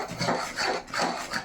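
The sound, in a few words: stirring beetroot halva in a pan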